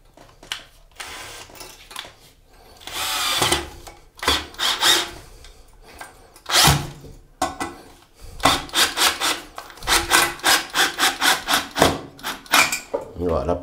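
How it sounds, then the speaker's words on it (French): A screw is driven into a shower screen wall fixation in a bathroom with rubbing, grinding strokes, then a dense run of quick rhythmic ratcheting pulses near the end, close and fairly loud. "Donc, je n'aurai plus qu'à le visser."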